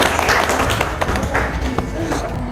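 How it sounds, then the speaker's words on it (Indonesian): A classroom of students claps briefly for a student group, giving a short burst of fairly loud applause over a constant room murmur. Voices talk over it. "Tepuk tangan dulu untuk kelompok 6."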